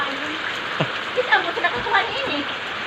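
Strong wind sweeps across a flooded neighborhood in Hagonoy, a steady broadband rush that runs the whole time, with faint voices murmuring underneath.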